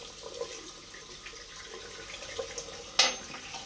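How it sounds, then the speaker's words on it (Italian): A tap runs cold water into a sink for rinsing after a Turkish-style shave, a faint steady trickle with small splashes and one brief louder spatter near the end. "Sciacquiamo con l'acqua fredda"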